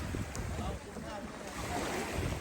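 Waves wash along the shore at Hat Sai Khao beach on Ko Chang, Thailand, with wind gusting over the microphone, a continuous seaside rush.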